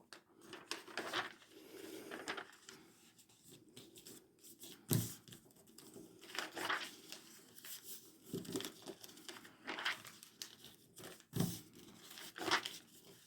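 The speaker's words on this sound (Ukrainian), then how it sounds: "Беремо листочок цвітного папіру і робимо гармошку." Coloured paper is folded into an accordion, giving soft crinkling and creasing rustles in irregular bursts, close and quiet with no talk.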